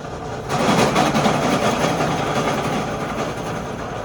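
A 6-litre diesel engine runs at a steady 1000 rpm, a loud continuous low rumble and drone that starts abruptly after a short quiet moment and holds evenly throughout, with no talking.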